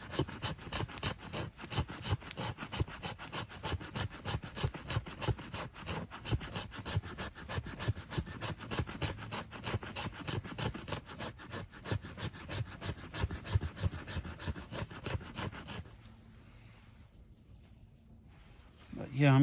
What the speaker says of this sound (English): I'm scraping some fat wood here.